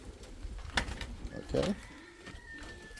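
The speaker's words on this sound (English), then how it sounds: "so that is what's going on, guys. Beautiful pigeons." Indian fantail pigeons cooing in a loft, soft low coos with a few brief louder calls and rustles, while someone talks over them.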